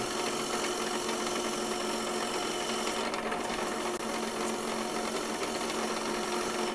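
A wood lathe tool cuts down a tenon on a turned box held on a jam chuck, making a steady, continuous close rasping and scraping under the hum of the spinning lathe, with no talking.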